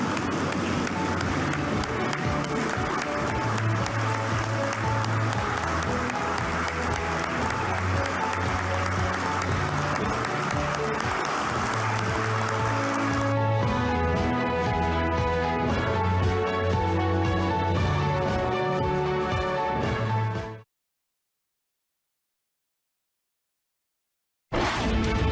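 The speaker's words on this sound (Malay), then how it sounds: "marilah bersama-sama dengan beta untuk berdiri dan memberikan tepukan yang gemuruh kepada semua wira dan wirawati petugas barisan hadapan negara." Sustained applause for frontline workers during a standing ovation, a dense, steady roar of clapping layered over tonal music that cuts off abruptly into silence before briefly resuming.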